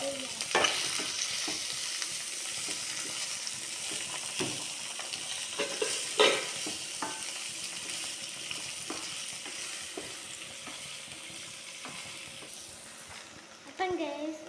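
Onion, tomato and chili frying in a pan while being stirred, a steady sizzle broken by repeated scraping and clinking stirs, close and moderately loud.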